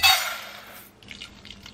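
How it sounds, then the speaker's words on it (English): Rice is rinsed with water outdoors. There is a brief close splash and pour of water at the start, fading into soft trickling and sloshing. "I like to rinse my rice"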